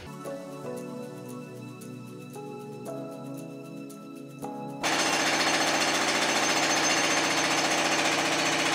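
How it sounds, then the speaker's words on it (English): A jackhammer pounds outside while workers fix a pipe, starting muffled and distant, then suddenly becoming loud and continuous, a steady dense rattling with no talk. "Jackhammering outside."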